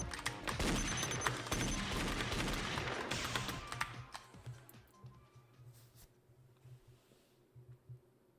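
Rapid bursts of gunfire in the game Danganronpa Another ring out loud and dense for about four seconds, then thin to scattered faint clicks and ticks, as of reloading bullets, over a low steady hum.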